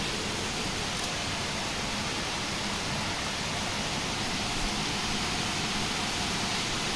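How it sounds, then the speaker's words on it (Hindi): Heavy rain pouring steadily since morning in humid, hot weather, a dense continuous hiss of downpour that stays loud and even throughout with no voices. "बहुत ही ज़ोर से बारिश हो रही है सुबह से।"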